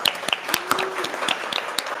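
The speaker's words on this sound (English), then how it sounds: "Let's give them all a big round of applause." Sparse, irregular claps from a small group, a few hands clapping unevenly with brief gaps, fairly close.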